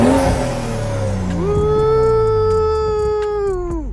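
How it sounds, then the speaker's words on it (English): A purple Lamborghini Performante engine revs up loudly and close, rising in pitch, holding a sustained high howl for about two seconds, then dropping off. "You want to rev it up? Go ahead, rev it up, man."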